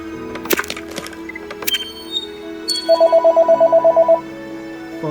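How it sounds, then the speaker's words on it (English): A telephone rings in the Criminal Case hidden-object game, a rapid electronic trill of about a dozen even pulses lasting over a second, loud and clear after a few sharp cracking clicks. "Phone's ringing, but my grandma will get it."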